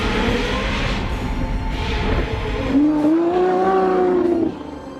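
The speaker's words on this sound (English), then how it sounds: "And like most people with a sports car, he's keen to show it off." Sports car engine revving and pulling away, with a rough, rising tonal roar that swells in the second half, then cuts back to quieter rumble near the end, fairly close and without speech.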